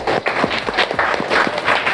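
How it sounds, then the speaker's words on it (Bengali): A classroom of students at a school class party claps for the classmates who decorated the room, a short burst of close, quick rhythmic clapping lasting under two seconds. "আর যারা সাজগুজ করেছে তাদের জন্য একটা হাততালি"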